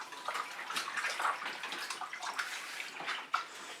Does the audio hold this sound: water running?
yes